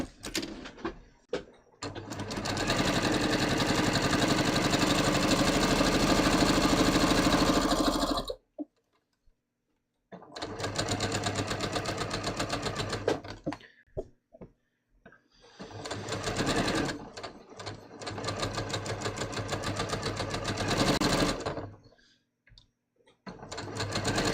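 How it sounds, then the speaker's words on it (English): Sewing machine stay-stitching the armholes of a bias-cut top, running in three long, steady loud bursts with short quiet pauses between them and no talking. "let's first stay stitch the armholes like this"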